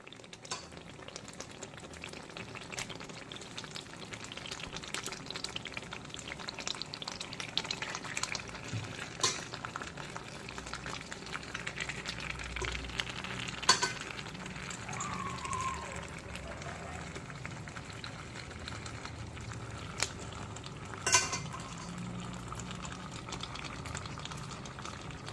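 Mutton pieces frying and being stirred with spices in a pan for a Maharaja mutton curry, a steady low sizzle with occasional scraping clicks of the spoon, fairly faint and continuous throughout.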